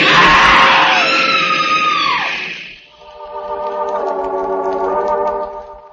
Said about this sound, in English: The woman screams.